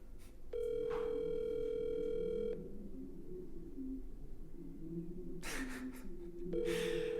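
An outgoing telephone call rings back twice, each ring a steady electronic tone lasting about two seconds with a long quiet gap between, while soft breathing and faint room noise sit underneath.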